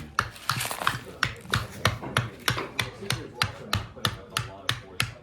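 Knife carving a small wooden spatula, thinning its back: a steady series of about a dozen sharp scraping strokes in regular rhythm, close and fairly clear, with no talk over them.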